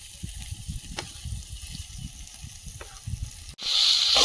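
Spice masala with Kashmiri chili powder and salt gently sizzles in oil, then tomato hits the pan and sets off a sudden loud, bright hiss that swells and keeps crackling.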